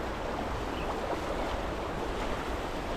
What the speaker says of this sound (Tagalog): Ganda ng tunog ng agos ng ilog